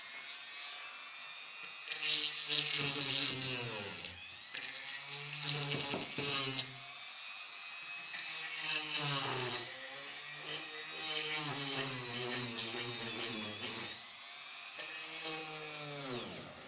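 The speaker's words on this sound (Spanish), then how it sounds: "Entonces procedemos a hacer nuestros huequitos," A small electric drill with a 2 mm bit bores holes in recycled wood, a high whining buzz running continuously with pitch dips as the bit bites, close and steady with no speech.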